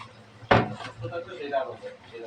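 Potatoes being stirred into beef curry in a pot, a sharp metallic clank followed by softer scraping and clattering in the pot, with a voice talking throughout.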